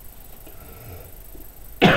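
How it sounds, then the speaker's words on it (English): A single loud, close cough bursts out abruptly near the end, after a stretch of quiet room tone while someone works on a summer-themed scrapbook layout. "Oh, I do apologise about all this coughing."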